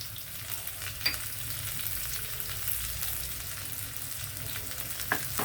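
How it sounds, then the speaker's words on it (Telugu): Cumin, mustard seeds and curry leaves frying in hot oil for a tempering, a continuous soft sizzle with a few sharp pops and crackles close by, no talk. "ఇదిగోండి జీలకర్ర ఆవాలు వేసాను అలాగే కరివేపాకు"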